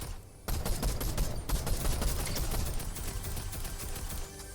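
Rapid bursts of gunfire in Fortnite Reload duo play, dense and loud, firing continuously with sharp repeated cracks for several seconds after a brief quiet start.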